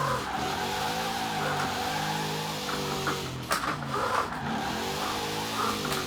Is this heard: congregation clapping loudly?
no